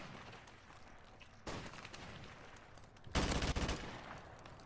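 Video game gunfire from an AK-47, with two loud broadband bursts standing out over steady background battle noise, the second burst the strongest and sustained toward the end.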